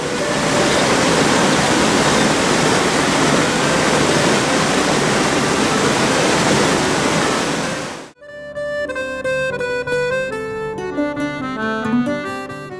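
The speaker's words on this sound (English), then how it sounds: "the gushing of the waterfall, which is beautiful" A waterfall gushes in a loud, steady roar of rushing water for about eight seconds, then cuts abruptly to a different scene filled with tonal, musical sound.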